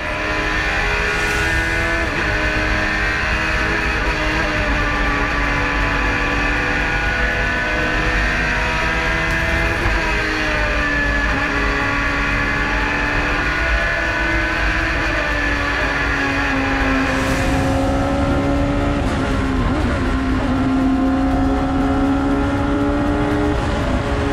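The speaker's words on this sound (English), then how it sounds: "This will be a high revving car." High-revving race car engine at the Pikes Peak hill climb, a loud sustained scream with shifting pitch as it accelerates, continuous and close for the whole stretch with no talking.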